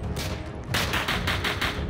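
Gunfire in the Roblox game Police Raid, set at a jewelry store, a dense volley of rapid shots that grows louder partway through and continues in steady bursts, without speech.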